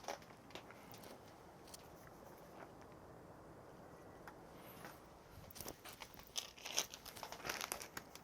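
A plastic bag holding burdock root is handled up close, with soft crinkling and rustling that turns louder and busier toward the end. No one speaks.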